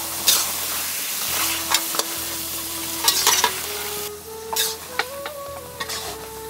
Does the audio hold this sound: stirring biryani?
yes